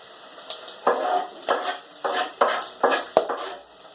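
Food pops and sizzles in a frying pan as a mushroom, chilli and garlic spaghetti sauce cooks. Close, sharp crackles and spits burst at an irregular, roughly half-second rhythm over a soft steady hiss, with no talking.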